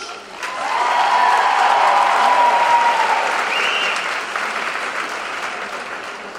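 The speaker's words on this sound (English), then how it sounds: "Another round of applause for today's in-studio entertainment" A studio audience applauds in a sustained burst of clapping at the Saroyan Theater, building quickly and then tapering slightly, with faint voices mixed in.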